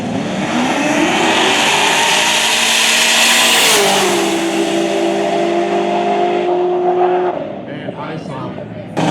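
A Mazda Miata and a 2003 Corvette drag racing at Lake Cumberland Dragway. Loud, close engine roar climbs through rising revs, shifts, then holds a strained high drone before dropping off near the end.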